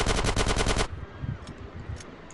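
A rapid burst of automatic gunfire in the video game GTA San Andreas, loud and close for under a second, then cuts off and leaves a few faint scattered hits and background noise.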